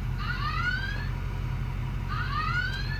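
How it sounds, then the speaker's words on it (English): An electronic alarm goes off during a scan, giving two quick sweeping chirp bursts about two seconds apart over a constant low hum, moderately faint. "Little alarm going off there"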